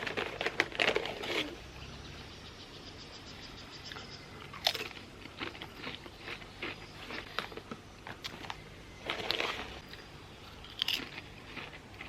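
Strawberry-flavoured potato chips are crunched and bitten close up, producing repeated crisp, irregular crackles with louder bursts every few seconds over quiet chewing.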